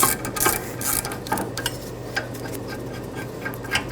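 Ratchet clicking steadily as a rear caliper bolt comes off a 2015-2020 Ford F-150, close up, with a few sharper metallic knocks and no talking.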